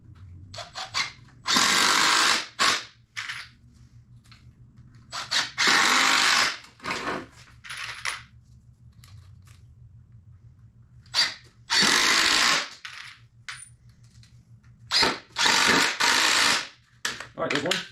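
A power drill drives screws straight into a wooden sawhorse without pilot holes, several loud bursts of whirring each lasting about a second, separated by quieter pauses with a low steady hum underneath.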